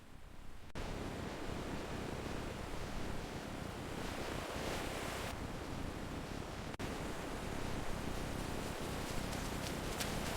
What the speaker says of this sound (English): The ocean is so vast and wondrous